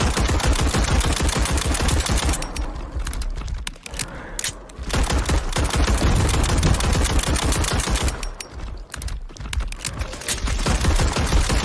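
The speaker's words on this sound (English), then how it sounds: "I'm pulling out the pistol to show you guys how ineffective a pistol is on one of these guys." Rapid gunfire in the video game SCP 5k, a long dense stream of loud shots with two brief pauses, sustained and close, with no talk over it.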